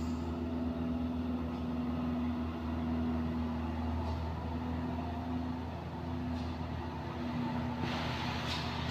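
A vehicle climbing the steep, rain-slicked Kedabuhan incline under full throttle, a loud continuous low engine roar with a steady strained tone, no voices.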